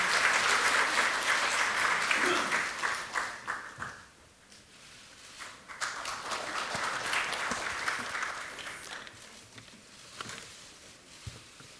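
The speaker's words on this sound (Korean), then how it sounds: "큰 박수로 맞아주시기 바랍니다" An audience applauds Speaker Park Byeong-seok of the National Assembly at the Democratic Party's ceremony marking 20 years since the June 15 North–South Joint Declaration. Steady, full clapping fades around the fourth second, then swells again and tapers.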